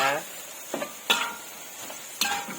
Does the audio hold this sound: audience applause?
no